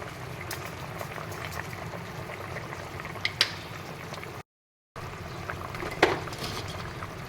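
Jackfruit and potatoes simmer in a pot, giving a steady, close bubbling boil with a couple of brief sharper pops and a short cut of silence partway through; no one speaks.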